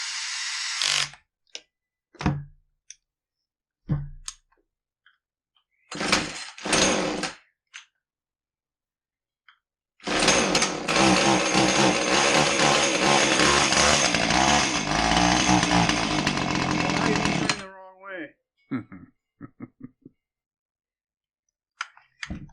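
A Husqvarna 450 chainsaw with its chain turning the wrong way runs loud and close for several seconds, preceded and followed by scattered clicks and short bursts of handling noise.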